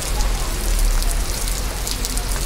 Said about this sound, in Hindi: यहाँ पे बहुत तेज़ बारिश पड़ी है।